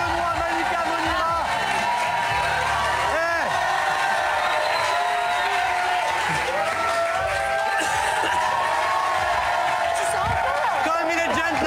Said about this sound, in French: Applaudissements s'il vous plaît pour Philippe Candeloro, Benoît, Malika Monira.